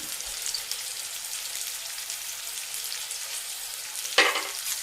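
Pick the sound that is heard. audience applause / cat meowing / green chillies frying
green chillies frying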